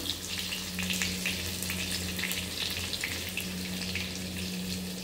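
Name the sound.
garlic frying in a pan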